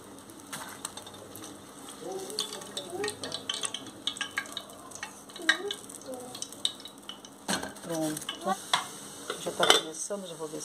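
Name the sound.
frying pastéis in a pan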